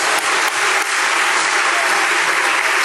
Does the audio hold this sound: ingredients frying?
no